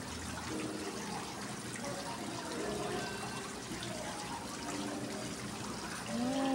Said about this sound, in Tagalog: Yung para nasa probinsya ka yung daloy ng tubig nila.